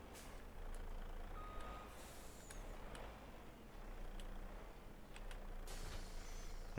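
A truck hauling a wood trailer in Farming Simulator 25 drones with a low, steady engine rumble, while brief hissing air-brake bursts and a few short beeps break through at a moderate distance.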